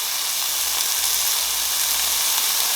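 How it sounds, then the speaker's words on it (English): Korean BBQ meat sizzles on a grill at home, giving a steady, close, unbroken hiss with no voices over it. "I was looking at the meat sizzling"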